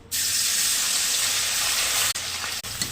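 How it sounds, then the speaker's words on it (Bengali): Pieces of maya fish coated in salt and turmeric fry in hot oil, a loud, close, continuous hiss and crackle that briefly cuts out twice near the end. "ভেজে নেবো ভালো করে।"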